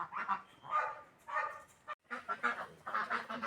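Startled farmyard geese and ducks honk and squawk nearby in short, repeated bursts, broken by a brief pause before the calls start up again.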